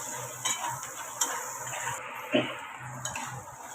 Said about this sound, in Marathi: हळद टाकते आणि आता चांगलं मस्त फ्राय करूया